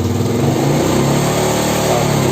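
A Honda Vario (VGR New) motorcycle engine revs hard and loud up close, a steady droning roar with no voices.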